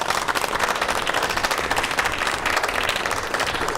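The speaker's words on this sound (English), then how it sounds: "I think they deserve certainly a round of applause." Audience applause at a county board of education meeting, a dense, steady patter of many hands clapping that holds evenly throughout.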